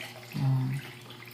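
Running water from a tap while something is being washed: a brief, steady gush of about half a second that starts and stops abruptly, close and alone.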